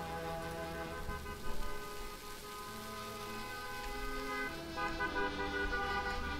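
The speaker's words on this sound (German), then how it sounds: "Draußen hupen irgendwelche Leute." Car horns honk outside a kitchen in the Cooking Simulator video game, a faint, sustained tonal honking layered over a soft rain-like ambient hiss.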